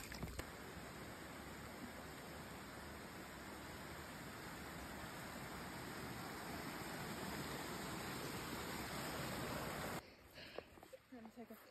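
Steady broadband rush of water tumbling down a small waterfall-like creek running along a hiking path on the Rees Dart track, loud and continuous for about ten seconds before dropping away.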